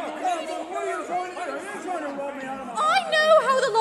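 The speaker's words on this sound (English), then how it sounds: "at the box office, where a crowd of patrons demand their money back" A crowd of cinema patrons at a box office clamours and argues in overlapping agitated voices, a dense nearby hubbub of shouting and chatter that grows louder toward the end, performed in a live radio play.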